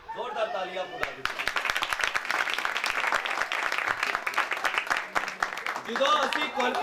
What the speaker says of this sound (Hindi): जोरदार तालियां खुदा दी